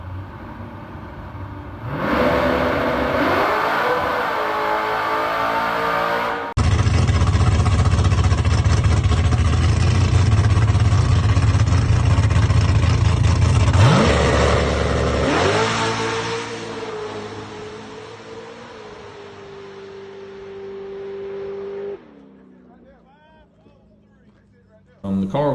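A Chevrolet Corvette C6Z engine idles and revs loudly nearby, rising through sustained high-rpm pulls, then settling back to a lower drone before cutting off; a voice briefly speaks at the end.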